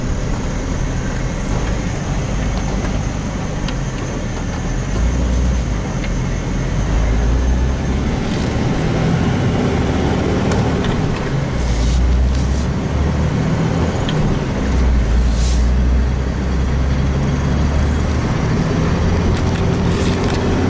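A 2006 Jeep Wrangler TJ cruising along a road at night, with steady engine drone and road rumble throughout and occasional faint rattles from bumps.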